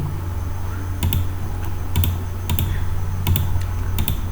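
Rapid keystrokes on a computer keyboard come in several short bursts, close and fairly loud over a steady low hum, with brief pauses between clusters while a login form is typed in C#.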